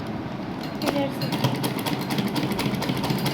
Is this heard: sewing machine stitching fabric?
yes